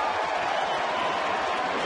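Baseball stadium crowd cheering and applauding after a called strike, a dense wash of clapping and cheers at moderate distance, steady and sustained with no clear individual voices.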